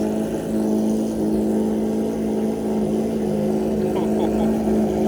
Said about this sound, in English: That's the sound of the proper V12.